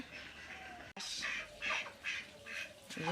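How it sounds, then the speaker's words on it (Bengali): Several ducks in a rural yard eating paddy grain, giving a run of short nasal quacks and squawks in bursts, fairly close, over a low steady background with no talk. "হাঁসগুলো খাচ্ছে ধান।"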